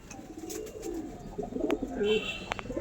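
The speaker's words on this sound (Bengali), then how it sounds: "দেখেন সব নিচেই আছে পায়রা," Andhra pigeons coo from a loft cage, soft repeated low calls building toward the end over faint background noise, with a few brighter chirps mixed in.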